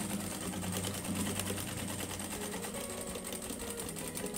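A sewing machine stitches fabric for a nécessaire box made from reused scraps, running in a steady, fast mechanical whir with even rapid needle ticks, close and continuous without pause.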